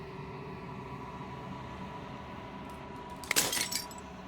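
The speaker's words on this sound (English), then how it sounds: "As the final fragment of glass shatters, you see yourself with newfound clarity." Glass shatters in a video game, a single brief crashing burst near the end over a steady low ambient drone.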